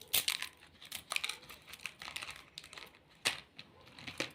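A block of Kellogg's beef-flavoured instant noodles is broken by hand inside its crinkly packet, giving a string of sharp, close cracks and crunches with rustling plastic between them.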